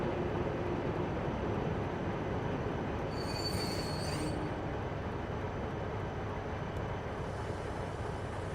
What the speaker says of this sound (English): This is the train to Jamaica.